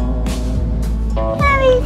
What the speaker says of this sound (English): Where are you going, kitty?